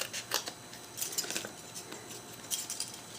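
Scissors snip a thin sliver from a long paper strip for a pop-up card, a few quiet, crisp cuts in short bursts with soft handling noise around them.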